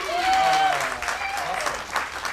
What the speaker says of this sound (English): Can we just give a round of applause for that real quick?